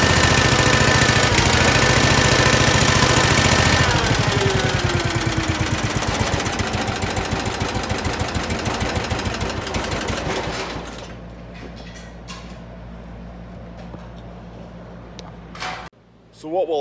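A Cub Cadet 1450 garden tractor engine running just after being started with the choke pulled out, a loud rapid chugging idle close by that slowly settles, then drops to a quieter steady putter; a voice talks partway through.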